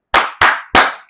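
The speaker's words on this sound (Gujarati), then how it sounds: "આમ તાળી વગાડે" Three sharp, evenly spaced hand claps ring out alone and close by, the kind used to signal a change of rhythm in garba dancing.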